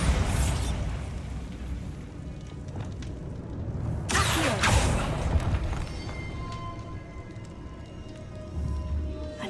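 Bombarda blasting spell in the Hogwarts Legacy video game, a single burst explosion rising midway over a rumbling game ambience, then fading into low background noise.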